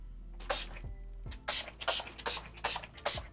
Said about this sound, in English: my makeup finishing spray for oil control